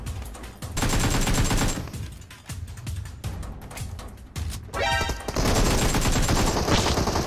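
Gunfire from the mobile battle royale game PUBG Mobile, with bursts of rapid shots in quick succession and sharp single cracks, loud and close throughout and barely pausing.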